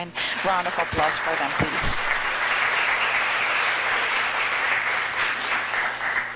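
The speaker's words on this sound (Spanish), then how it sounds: "por favor un gentil aplauso" Polite applause from attendees at an international educational leadership symposium in Costa Rica, a dense, even roll of clapping that holds steady the whole time after a brief voice at the start.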